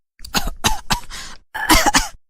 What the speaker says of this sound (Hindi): चुड़ैल जोर जोर से खांसने लगती है